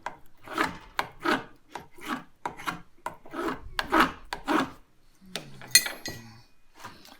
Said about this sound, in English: There I am using the refined spoke shave.